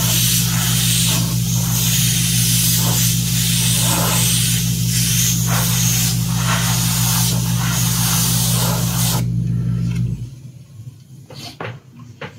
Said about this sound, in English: I typically spray in the direction that I want it to fade out into.